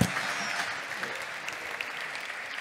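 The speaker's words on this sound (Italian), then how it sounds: "Io farei un applauso a Anna Balasacchi che è bravissima e che..." Applause from a conference audience at a shared-mobility event, steady dense clapping filling the whole stretch at moderate level, with a few sharper claps standing out and no speech on top.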